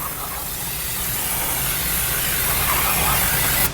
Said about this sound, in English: spray some brake clean in here.